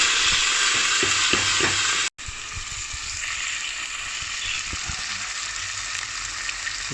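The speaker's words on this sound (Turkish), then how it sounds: "Daha sonra yıkayıp süzdüğünüz bu pirinçlerimizi içine döküyoruz." Washed rice poured into hot oil in a pan with toasted orzo for a pilaf, producing a loud, steady sizzle and crackle close up, with a few stirring clicks and a brief cut partway through.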